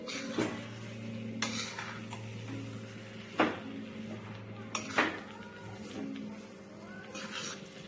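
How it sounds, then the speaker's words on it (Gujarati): Flour roasting in ghee for mohanthal is stirred in a pan, giving scraping, clinking strokes of a spoon against metal at irregular intervals over a low steady hum, moderately close and fairly quiet. "આ રીતે આપણે સતત હલાવતા જઈને લોટને શેકવાનો છે"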